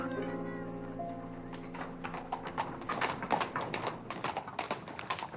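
Hooves of horses drawing a tall black carriage with high wheels clop in a steady rhythm, growing louder and closer, while a sustained tonal sound fades out at the start.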